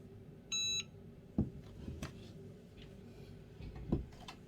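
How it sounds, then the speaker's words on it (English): A single short electronic beep sounds from a heat press signalling it is done, followed by a few soft thumps in a quiet room. "it will beep again once it's done"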